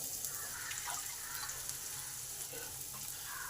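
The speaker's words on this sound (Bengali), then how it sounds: "এই তেলেতে রসুনগুলো, আদা আর পেঁয়াজটা একটু ভালো করে ভেজে নেব।" Garlic, ginger and onion sizzle steadily in a little oil in a pan, a quiet, continuous frying hiss with faint stirring scrapes and no talk.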